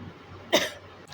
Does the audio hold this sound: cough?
yes